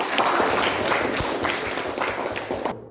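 Students applauding in a classroom after a presentation, a dense patter of close, steady clapping lasting a few seconds before stopping abruptly.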